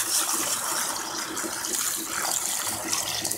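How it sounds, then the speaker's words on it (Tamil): One litre of water pours steadily into a cooking pot holding palmyra sprout tubers, a continuous close splashing gush for a few seconds with no talking. "இப்போ ஒரு 1 லிட்டர் தண்ணி ஊற்றிடலாம்"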